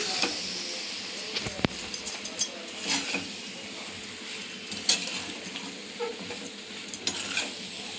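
Pasta is stirred in a pan as a spoon scrapes and clinks against the metal in a soft, irregular rhythm under a low sizzle, with no talking.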